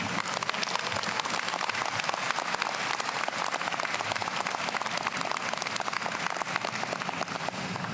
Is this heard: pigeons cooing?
no